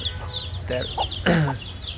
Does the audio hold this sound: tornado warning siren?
no